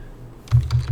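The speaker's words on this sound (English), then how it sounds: "having to type all this in manually" Typing on a computer keyboard, heard as a quick cluster of close, clicky key presses after a moment of quiet hum, with no talking.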